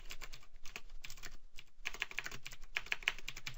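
Fingers tap steadily on a computer keyboard, with close, light clicks in quick irregular bursts and a few sharper keystrokes, over a faint background hum, with no talking.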